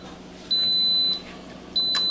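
Two clear, high electronic beeps from an Instant Pot electric pressure cooker, each about half a second long and evenly tone-steady, sound close by over a faint background hum.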